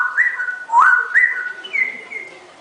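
Someone whistles a tune imitating a man whistling a song, with several clear gliding, bird-like notes in a short melodic phrase, close and alone without speech.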